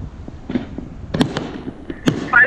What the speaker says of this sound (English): stop the use of illegal fireworks